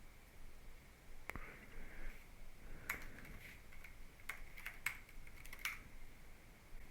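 A password is typed on a computer keyboard in a quiet room, with a few sparse, separate key clicks and short clusters of taps at close range.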